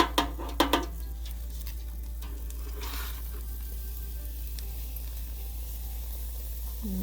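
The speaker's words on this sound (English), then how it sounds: "once we finish frying them" Donuts frying in hot oil give a steady, faint sizzle throughout, with a few sharp clicks near the start and a soft low bump at the end.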